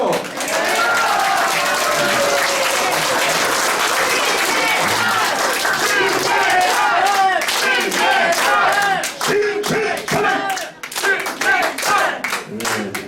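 A crowd at a campaign office opening for a Gyeonggi governor candidate applauds loudly and continuously for about thirteen seconds, with a few shouts in the middle and the clapping thinning toward the end.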